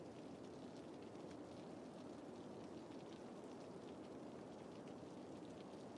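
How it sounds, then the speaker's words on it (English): Steady tropical rain in the Cities: Skylines video game, a constant dense hiss of falling drops that stays even throughout, fairly quiet, with no voices. "Oh yeah, tropical rain."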